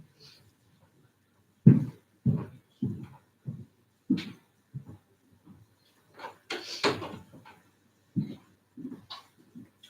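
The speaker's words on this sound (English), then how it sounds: "I'm gonna shut that door just a little bit" An indoor door is eased shut in a string of soft knocks and bumps, each one close and muted and followed by a short pause.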